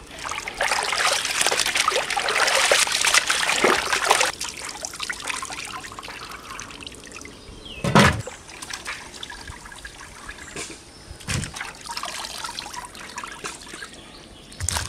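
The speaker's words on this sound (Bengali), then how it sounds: "তো চিকেনটাকে আমি সুন্দর করে ধুয়ে নেবো।" Running water splashes and trickles steadily as raw chicken is washed for a curry at an outdoor village cooking spot, with occasional knocks and a few faint bird calls in the background.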